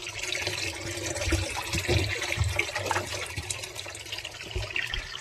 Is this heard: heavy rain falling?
no